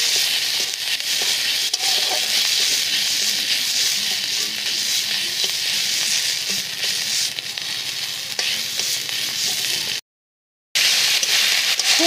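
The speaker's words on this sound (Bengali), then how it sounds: "খুব ভালো করে আমি মশলাটাকে কষিয়ে নেব।" Spice paste with cumin and coriander powder fries in a hot pan, sizzling in a dense steady hiss with occasional stirring scrapes, close and loud, broken by one brief silent gap.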